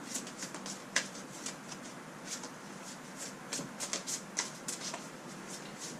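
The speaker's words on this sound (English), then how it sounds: "a couple more shuffles" A tarot deck shuffled by hand for several seconds, producing a steady run of crisp, close papery riffles and soft slaps, with no one speaking.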